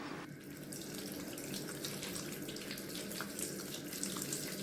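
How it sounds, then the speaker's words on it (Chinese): Clean water runs and splashes steadily over bayberries sprinkled with salt as they soak in a basin, a soft continuous wash of water with no voices. "杨梅先撒上点盐，用清水浸泡5分钟，可以泡出果肉中的虫卵或幼虫。"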